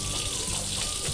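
Warm tap water runs steadily during handwashing, a dense, even hiss and splash that fills the whole moment with no pauses.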